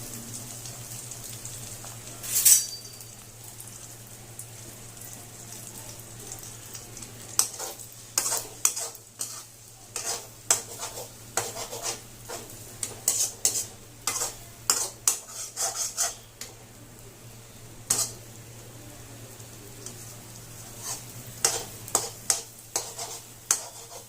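Egg frying for egg fried rice in a pan, a soft steady sizzle under a low hum, with a spatula scraping and tapping the pan in a quick irregular run of stirring strokes, no talking.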